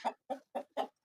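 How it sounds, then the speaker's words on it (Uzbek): A Lakenfelder rooster gives four short, evenly spaced clucks, close by and alone with nothing else around. "Bu Lakenfelder xo'rozimiz."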